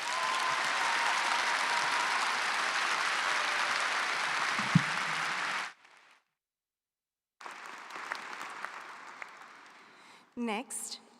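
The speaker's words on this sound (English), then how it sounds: "Now please join me in a round of applause to congratulate them all" Steady applause from an audience at a 2023 psychology commencement ceremony, filling the room for several seconds before cutting off, followed by quieter room sound and brief speech.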